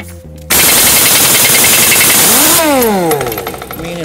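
Pneumatic air impact gun hammering on a semi truck brake chamber, starting abruptly after a brief pause and running loud and continuous for several seconds with a rising then falling whine.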